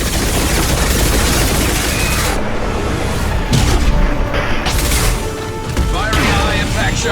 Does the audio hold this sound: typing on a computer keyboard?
no